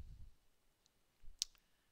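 A single computer mouse click sounds sharp and close in an otherwise quiet room, with a soft low thump just before it.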